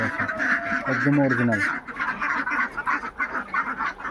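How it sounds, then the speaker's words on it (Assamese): Many farm ducks quack in a noisy flock, a steady layered chorus running the whole time, with someone speaking over the birds near the start. "বহুত হাঁহ আছে"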